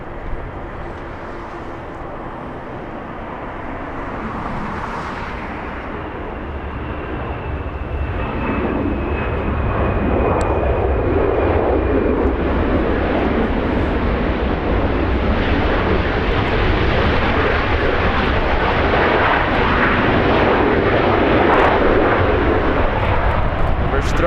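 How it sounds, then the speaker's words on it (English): A Southwest airliner arriving from Denver at Los Angeles International Airport roars in, its jet engine rumble rising steadily from moderate to loud and broad as it nears, with a voice talking over it. "here's the Southwest coming in from Denver"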